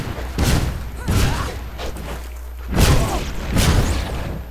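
Rifle shots in the video game Fable 3 fire in a quick series of about five loud, sharp cracks spaced under a second apart, close and punchy.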